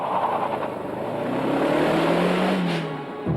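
Lotus Esprit S4S with a small turbocharged 2-litre four-cylinder engine rated at 286 horsepower, droning steadily close by as the revs climb smoothly over a few seconds, then dropping off abruptly near the end.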